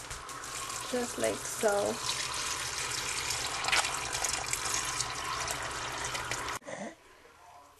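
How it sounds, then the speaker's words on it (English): Tap water runs into a big bowl of raw beans, a continuous splashing pour near and fairly loud, ending abruptly when the flow stops; a voice speaks briefly over the water. "put them in a big bowl and then just cover them with water"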